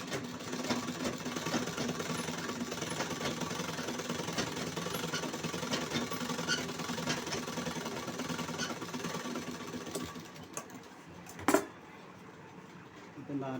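A sewing machine stitching a blouse runs in a steady mechanical rattle, fairly faint and close, stopping near the end with a brief clack.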